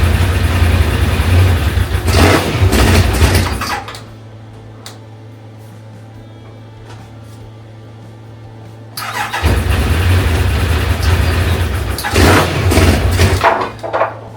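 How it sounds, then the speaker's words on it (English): A revived track car engine runs loud and close, revving hard in rough bursts, dropping to a steady lumpy idle for several seconds, then revving again. "the engine does run. It sounds absolutely amazing."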